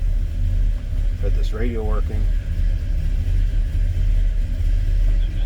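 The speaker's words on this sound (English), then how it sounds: "Let's fire this up. This truck sounds great." A 1967 Ford F100 pickup's 352 FE V8 with a mild cam idles in a steady, deep, loud rumble close by, while someone briefly talks over it.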